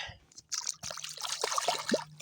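A small bass is let go back into lake water, giving a quiet splash and trickling dribble close by that lasts about two seconds.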